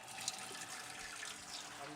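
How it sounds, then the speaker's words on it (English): Cold tap water runs steadily into a pot of potatoes, a soft continuous hiss of filling close by. "So we'll go straight into our pot,"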